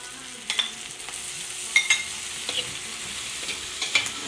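Meat sizzles in a pan for a Filipino pancit while a utensil stirs it, with steady frying hiss and repeated scraping clacks against the pan at close range.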